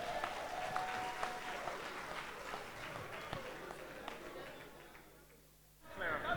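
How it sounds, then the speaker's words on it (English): Audience at a Nigerian student leadership forum applauds in a dense, steady round of clapping that carries through most of the stretch, thins briefly near the end, then swells again. "A beautiful round of applause for yourselves."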